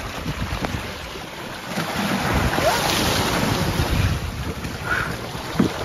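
Strong wind buffets the microphone aboard a sailing boat crossing the Atlantic in rough conditions, a steady loud roar with water rushing beneath and a few brief creaks, no talking.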